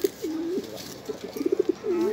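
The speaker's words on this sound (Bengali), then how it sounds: "আর এখানে আছে আমার পিকে শিকারি কবুতর" A hunting pigeon coos in a series of soft, rounded calls, a longer drawn note, then a quick run of short pulses and another long coo, close and fairly quiet, without speech.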